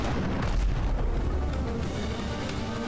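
Booming cannon fire from pirate ships in the naval combat game Abandon Ship, a dense, continuous low rumble of shots and blasts sustained throughout without speech.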